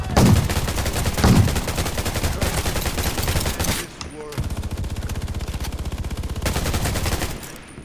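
Rapid turret gunfire rattles in dense sustained bursts during a gang fight in the video game Undawn, loud and continuous with a brief pause midway.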